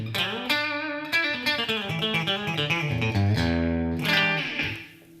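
Les Paul-style electric guitar with the coil tap engaged, played in a brighter, twangy tone with picked single notes and short chord stabs in a steady flowing phrase, close and fairly loud with no talking.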